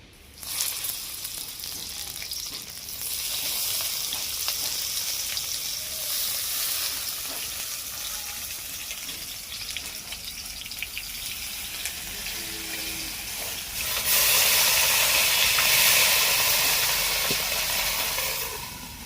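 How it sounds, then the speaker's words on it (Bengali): Mourala fish paturi wrapped in bottle gourd leaves fry in oil with a steady, dense sizzle throughout, growing louder and brighter near the end, with no talking. "আরেকটু তেল দিয়ে বাকি যে 4টা পাতুরি আছে আমি ওই একইভাবে ভেজে নেব"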